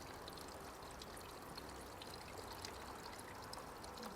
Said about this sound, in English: let the coolant flow out